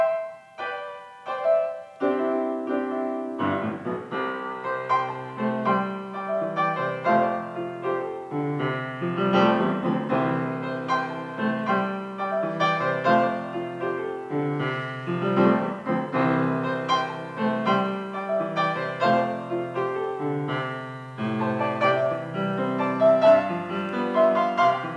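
A piano plays a country tune, with a steady melody over bass chords and sustained, slip-note style phrasing, loud and alone throughout.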